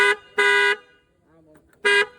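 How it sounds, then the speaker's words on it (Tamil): A repaired, freshly cleaned car horn sounds three loud honks: a short toot, a longer blast, then another honk after a pause, with quiet talk heard between them. "அப்போதான் இந்த ஹாரனையும் கலத்தி கிளீன் பண்ணி போட்டு விட்டான்."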